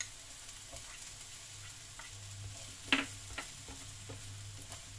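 Onions sauté in a pan with a soft, steady sizzle, broken by a few scraping stirs and one sharper clatter near the middle.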